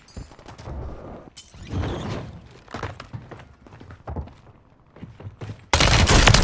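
Striker shotgun blasts from a video game, several sharp shots spread through the stretch with a loud, dense burst of fire at the end.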